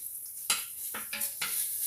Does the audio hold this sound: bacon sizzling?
yes